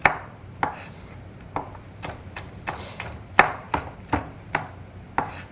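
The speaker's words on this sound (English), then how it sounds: "use your knuckle as a guide, and just julienne. Nice thin strips." A knife julienning food into thin strips on a cutting board: about a dozen crisp, close chops in an uneven rhythm, with no talking.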